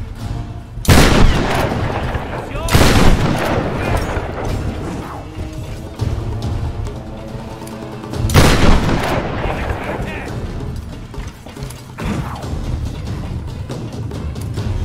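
Heavy gunfire and booming blasts from the video game Tomb Raider, a few loud, widely spaced reports with a low rumbling bed and game noise between them.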